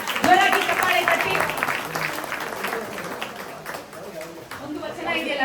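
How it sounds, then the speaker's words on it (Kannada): An audience at a quiz contest applauds a correct answer with a steady wash of clapping lasting several seconds, mixed with voices talking over it. "ಜೋರಾಗಿ ಚಪ್ಪಾಳೆ ತಟ್ಟಿ"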